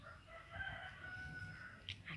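A blirik rooster crows once, a faint, fairly distant drawn-out call over low background noise outdoors.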